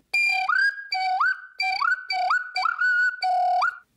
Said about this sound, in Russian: Если просто свисток, то он просто свистит себе и свистит.